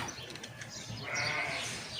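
Goats bleating among farm livestock while being fed bread, a few moderate bleats over a steady farmyard background, with a brighter, louder call in the second half.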